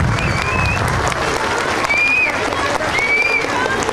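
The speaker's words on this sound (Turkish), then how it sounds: "o zaman onları şöyle hep birlikte güçlü bir biçimde alkışlayalım diyorum" Loud, dense applause from a crowd at an award ceremony for a youth talent search held by Kepez Belediyespor, sustained and even throughout, with a few faint whistles over the clapping.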